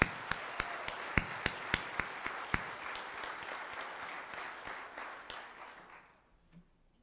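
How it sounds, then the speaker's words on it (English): An audience at a Sunday worship service gives a round of applause, with a few sharp nearby claps over a broad crowd clapping that gradually fades away to near silence. "Let's give yourselves a round of applause."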